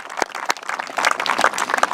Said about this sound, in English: Let's give a round of applause to our Land Tech team who made this happen.